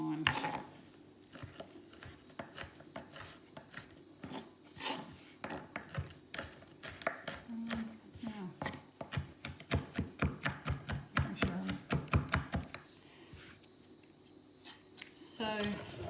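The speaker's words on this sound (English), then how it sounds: "I'll just chop it up a bit." Knife chopping dried lemon pieces on a board for seasoned salt, a run of quick, close taps and scrapes of uneven rhythm with pauses between bursts, under occasional talk.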